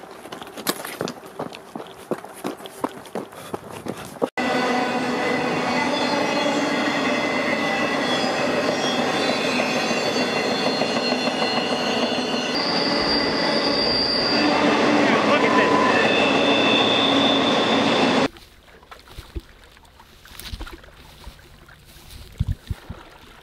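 A moving freight train grinds past with high, sustained wheel squeal over a heavy rolling rumble for about fourteen seconds, with footsteps and scuffling heard before and after.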